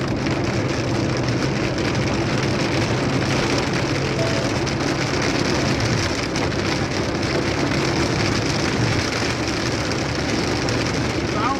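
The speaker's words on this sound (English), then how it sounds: "We are driving through torrential monsoon rain." Torrential monsoon rain pounds a car on a highway, a dense, steady wash of drumming on the body and glass with road roar underneath, loud and unbroken throughout.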